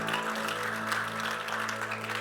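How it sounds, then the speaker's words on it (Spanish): A church congregation applauds, a steady dense clapping that fills the room, moderately loud and sustained, with a sustained musical tone beneath it. "Den ese aplauso fuerte a Cristo"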